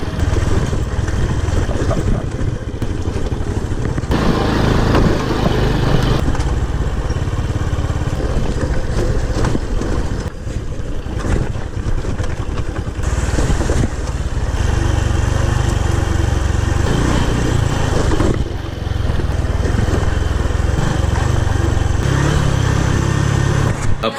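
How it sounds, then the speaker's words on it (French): Honda Blade motorbike riding a rough, motocross-like road in Vietnam, a loud continuous engine drone with wind rumble and jolting surges as the revs rise and fall throughout. "c'est le temps de tester la résistance de ma petite Honda Blade"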